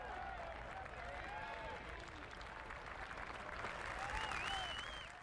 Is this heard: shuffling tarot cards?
no